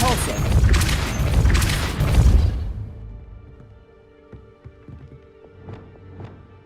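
A Depulso force spell fires in Hogwarts Legacy, a loud dense burst of impact and rumble lasting a couple of seconds, then dying into quieter game ambience with a few small thuds and clicks.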